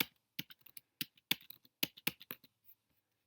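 Computer keyboard typing while code is copied and pasted: a quiet, irregular run of sharp key clicks and taps with short pauses, close by and with no voices.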